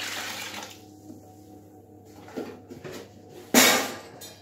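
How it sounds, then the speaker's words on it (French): Warm water pours into flour for multi-grain pizza dough, a soft splashing at the start, then quieter trickles and a sudden loud gush near the end, with no voices. "Ensuite, je vais ajouter le liquide."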